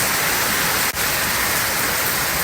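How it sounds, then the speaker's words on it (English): Heavy hurricane rain pours down steadily in Parrish, Florida, during Hurricane Milton, a dense continuous roar with one brief dropout, loud and close with no voices. "now you're seeing quite a bit more rain"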